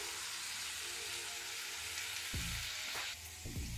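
Chopped onion pieces frying in a pan while browning for a rajma curry, a steady close sizzle and hiss with a few faint stirring clinks near the end.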